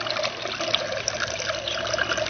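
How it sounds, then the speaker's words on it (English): Water runs steadily through a fine gold recovery bowl, a continuous close trickle and wash swirling down a center cone. "Just rotate this around to get a fairly even flow of water going down the center cone."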